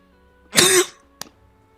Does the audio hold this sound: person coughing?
yes